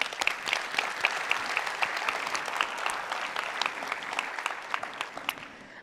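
Steady applause from a conference audience, many hands clapping at a close, even density for about six seconds with no voices over it.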